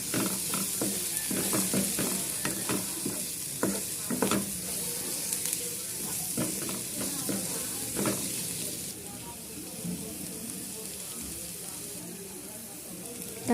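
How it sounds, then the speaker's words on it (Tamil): Tomatoes frying with salt and turmeric for Indian egg bhurji, a soft steady sizzle with clustered spatula scrapes and stirring taps early, easing into a calmer hiss. "இப்போ தக்காளி சேர்த்துக்கலாம். இது கூடவே உப்பு மஞ்சள் தூள் போட்டு நல்லா மிக்ஸ் பண்ணி விட்டுடலாம்."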